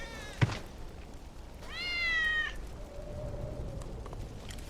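A single drawn-out cat meow from Final Fantasy 7 Remake, clear and fairly close, follows a brief thud, with a faint steady tone and soft game ambience afterwards.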